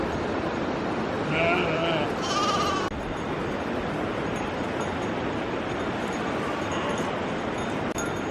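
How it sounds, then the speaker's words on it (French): A large herd of goats on a Himalayan trail near Chame bleat in short overlapping calls over a steady wash of outdoor noise, fairly close, with faint voices in the background. "Un immense troupeau de chèvres"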